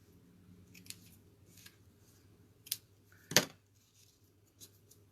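Scissors snip ribbon bow tails for a paper craft project, giving a few quiet, sharp metallic cuts spaced apart, with one crisper snip standing out in a calm room.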